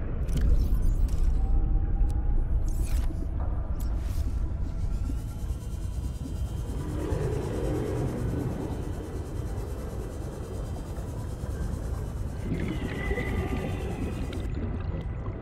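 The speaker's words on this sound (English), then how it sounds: "Sea Glide sound is kind of cutting in and out in a strange way." Sea Glide underwater scooter in Subnautica: Below Zero whirs and hums, cutting in and out unevenly over a dense watery rumble, with shifting tonal swells partway through.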